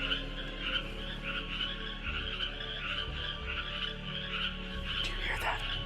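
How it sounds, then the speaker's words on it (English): Frogs croaking inside a tunnel, a dense, steady chorus of overlapping calls with a continuous low rumble underneath, lasting throughout. "You can hear the frogs croaking as if they're like warning us not to go in."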